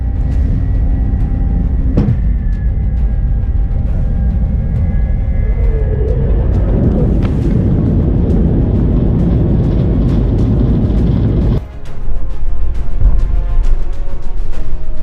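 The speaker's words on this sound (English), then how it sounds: "this airplane was about to take off, a bird was sucked into the engine" Loud, sustained airplane jet engine roar during an aborted takeoff after a bird was sucked into the engine, a whining tone that shifts and drops, a sharp bang partway, then a brief dip before the rumble resumes.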